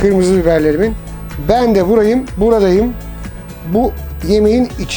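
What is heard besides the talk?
None of the usual background noises is heard.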